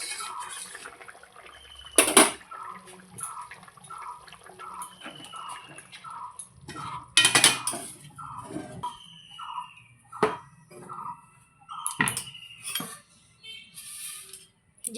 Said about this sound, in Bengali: গামলায় আমি বড়ি ভেজে রেখেছিলাম সেই গামলার মধ্যেই আমি তরকারিটা ঢেলে নিলাম